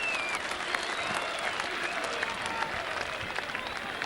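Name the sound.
rugby crowd applauding and cheering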